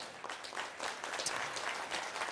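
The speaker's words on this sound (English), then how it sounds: "huge round of applause for your mayor" A room of guests at a Forest Park Chamber of Commerce business breakfast claps for mayor Charles Johnson, a fairly faint but continuous wash of many hands applauding.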